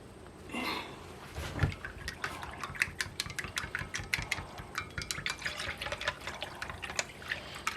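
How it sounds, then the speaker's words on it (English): A liquid mixture being stirred in a quart jar, with a series of quick clinks and splashy taps from the spoon against the glass, fairly close and quiet, with a soft thump near the start. "Then we're gonna stir it up."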